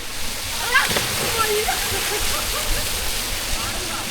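A hidden waterfall at Neelakkayam in Alakode gives a constant broad rush of splashing water nearby, with voices talking over it.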